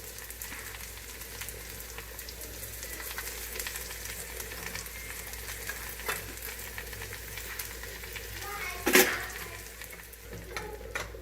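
Spices such as cinnamon and cloves with grated coconut and tamarind fry in a pan for Karnataka-style bassaru. A steady, close sizzle runs throughout, with a brief clatter of stirring near the end.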